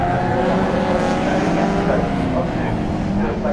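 Race cars at Snetterton crossing the start-finish line, a dense continuous roar of several engines with a commentator talking over it throughout.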